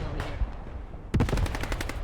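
Aircraft machine gun strafing a forest in Panzer Front, a World War II tank game on the Maginot Line. Sparse distant rumble gives way to a loud, rapid burst of gunfire that keeps rattling to the end.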